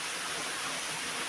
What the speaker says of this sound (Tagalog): na may bumubulwak na lakas pa na tubig